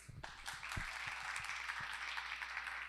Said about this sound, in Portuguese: professor doutor Antônio Monteiro Fernandes, estamos aqui para acolhê-lo com as calorosas salva de palmas